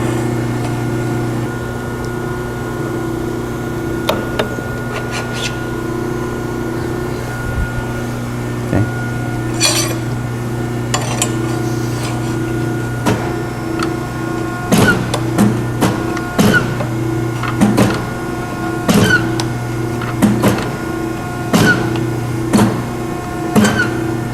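Scotchman 5014-TM hydraulic punch and shearing machine step bending metal on its press brake, a steady hydraulic hum with a series of sharp metallic clicks and knocks growing more frequent toward the end.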